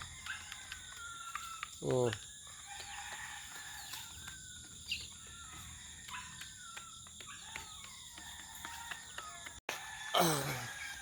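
A rooster crows loudly twice, near and then again later, among scattered bird calls and chirps over a quiet background of insects.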